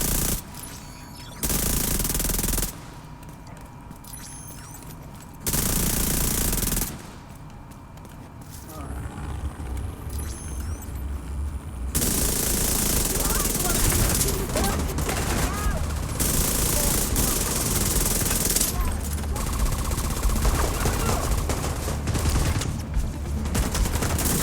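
A KRISS Vector submachine gun fires at its maximum rate of over 1,720 rounds per minute, in long continuous buzzing bursts broken by short pauses, loud and close, with people talking between and over the strings of fire.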